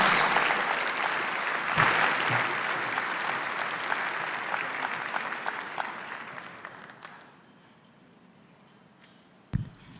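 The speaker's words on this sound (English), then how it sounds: "I hope you'll also give them a round of applause today, too." Sustained applause from a luncheon audience, loud at first and gradually fading away, ending with a single sharp knock.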